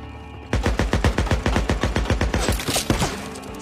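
A loud, fast burst of gunshots in the Days Gone game, evenly spaced sharp reports rattling off after a short quiet start and tapering slightly toward the end, with no talking.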